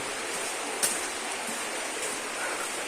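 Water flows continuously inside Arwah Cave in Meghalaya, a dense, even rushing hiss like a nearby stream filling the low, cramped passage, with a faint brief click near the start.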